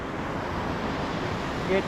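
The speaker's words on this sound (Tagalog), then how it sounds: "Kaso lalaki ng alon" Big ocean waves rush in a steady, broad wash on a La Union shore while shore fishing, with wind blowing across the microphone and a faint voice briefly audible near the end.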